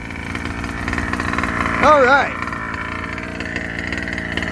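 A 5th-scale RC car with a 30.5 cc engine runs steadily throughout, a buzzy two-stroke drone with a brief rising-and-falling whine in the middle, while a person speaks briefly over it.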